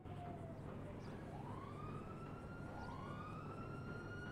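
A police siren in the video game GTA 5 FiveM winds up in two rising wails, fairly faint and distant, over a low steady background drone.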